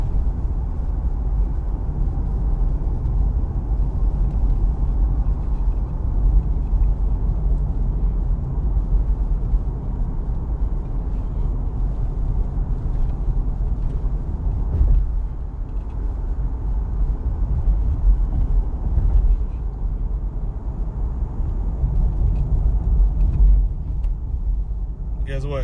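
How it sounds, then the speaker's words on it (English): A 2002 Nissan Pathfinder SE, two-wheel drive, on a test drive with windows up and air conditioning on, a steady low cabin rumble of engine and road noise that continues throughout. "I try not to overtalk the test drive so you can hear it."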